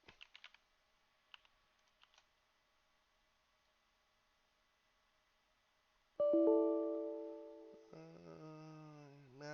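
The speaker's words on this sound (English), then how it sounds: "Make sure I'm typing this right." Light computer-keyboard typing, a few quick soft clicks in the first two seconds, then silence before a loud sustained droning tone takes over.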